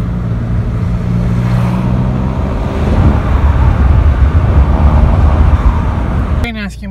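An Opel Astra H 1.7 CDTI diesel, 80 hp, with a modified exhaust runs steadily at idle, heard loud and continuous with low droning harmonics and broadband rumble. A voice cuts in briefly at the very end.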